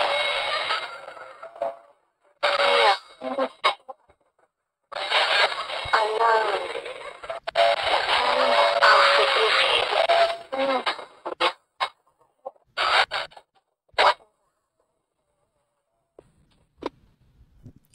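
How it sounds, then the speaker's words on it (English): A Wii remote speaker plays crackly static from a video game in irregular bursts, some lasting a few seconds and others brief, separated by silent gaps. "the static you heard that time is actually part of the game"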